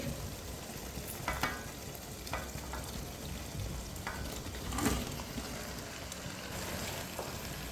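Fried chicken is stirred into biryani masala in a pan for Hyderabadi chicken biryani, with steady close sizzling and frying, scraping strokes of a spoon, and occasional clinks against the pan.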